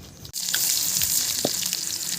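Onion sizzling in hot oil for an eggplant bharit cooked outdoors on a terrace, a steady bright crackle with a brief clink partway through, no talking.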